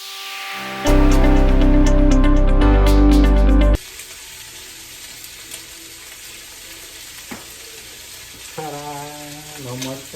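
Chicken wings sear in a pan with a loud, steady sizzle for a few seconds, then it drops to a faint, quiet crackle. A brief voice comes in near the end.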